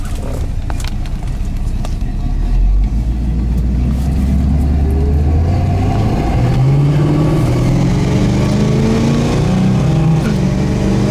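A 1974 Pontiac GTO engine rumbles at a low idle of about 500 RPM in gear, close and steady, its deep throb shifting slightly in pitch as it runs.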